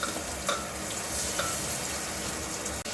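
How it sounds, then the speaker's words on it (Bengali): Onions frying in a pan with an oily sizzle while a utensil stirs and scrapes now and then, close and fairly loud with no talking. "এবার পেঁয়াজগুলোকে ভাজবো।"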